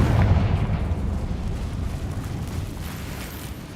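Confringo fire spell blast in Hogwarts Legacy, a heavy booming explosion at the start that rolls into a long rumbling decay, loud and close with no voices.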